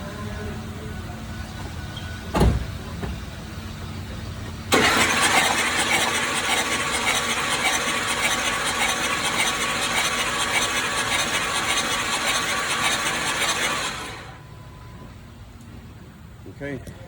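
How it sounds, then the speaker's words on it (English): Ford 5.4 3-valve engine cranking over with its spark plugs removed, a loud whirring starter drone that starts abruptly, runs steadily for about nine seconds, then cuts off, with outdoor background noise around it. "Now we should be able to turn the motor over."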